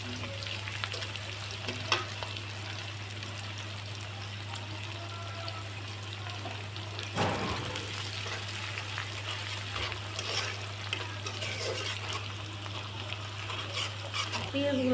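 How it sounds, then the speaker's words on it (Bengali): Onions fry in oil with panch phoron spices, a constant close sizzle and hiss over a steady low hum, with occasional stirring scrapes throughout. "পেঁয়াজগুলো আমি এখন এভাবে ভালো করে লাল লাল করে ভেজে নিচ্ছি।"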